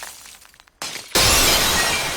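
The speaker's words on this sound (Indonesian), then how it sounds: "menyerang tubuh gadis itu sampai membuat boneka air Sunao hancur seluruhnya." A water doll bursts apart in an anime fight: after a brief lull, a sudden loud crash erupts and settles into a sustained bright, glassy shattering spray that fills the rest of the moment, with no voices.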